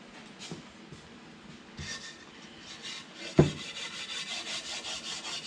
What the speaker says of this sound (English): So we scraped all the lacquer finish off with the pocket knife edge.